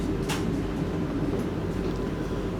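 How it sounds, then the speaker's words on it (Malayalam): A Vande Bharat express train rolls into Chengannur station with a low, continuous rumble and clatter, plus a brief higher hiss near the start. No voices are heard. "അപ്പോൾ അങ്ങനെ ട്രെയിൻ ചെങ്ങന്നൂർ സ്റ്റേഷനിലേക്ക് പ്രവേശിക്കുകയാണ്."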